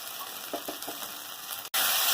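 Ginger and spice masala sautéing in a pan, a steady loud sizzle with a few soft stirring scrapes, then a sudden brief drop and a brighter, harsher hiss at the end.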